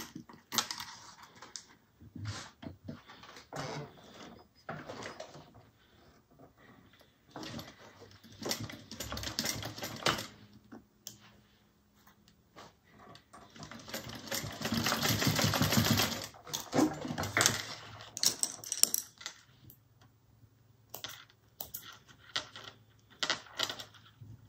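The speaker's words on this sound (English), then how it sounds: "now I'm just going to sew down on, sew right down along the edge there to tack it in place" Sewing machine stitching along the edge of a fabric satchel, bursts of rapid mechanical clatter starting and stopping, louder in the middle stretch, with faint handling noises between runs.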